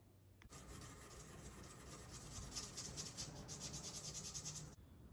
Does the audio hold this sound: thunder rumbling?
no